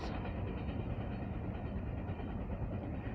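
A CSX I-166 Canadian Pacific double-stack freight train heading east toward New York rumbles past steadily, a continuous dense low roar of rolling wagons with faint clacking, close and unbroken throughout.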